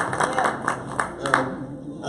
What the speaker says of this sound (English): let me get a round of applause for everybody that was here